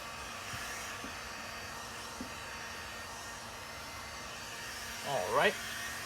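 A heat gun blows over a three-layer Challenger taillight divider decal. It makes a steady, fairly quiet hiss of rushing air throughout, with a short higher squeak near the end.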